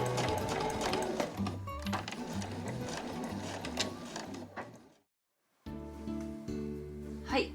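A sewing machine runs steadily, stitching the opening edge of an A4 flat tote bag with a rapid mechanical whir. It stops briefly into near silence, then starts again close and clear.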